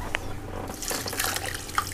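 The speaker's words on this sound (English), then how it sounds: "I'm gonna fill half of a jar of this with water." Water running into a half-filled jar for a pressure cooker meal, a close trickling pour with small drips and splashes, no talk.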